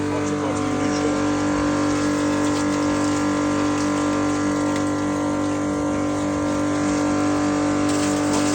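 A pressure machine flushes a kitchen drain pipe clogged with sandy construction debris, giving a loud, constant pumping drone with a steady mechanical hum and rushing water throughout, without pause.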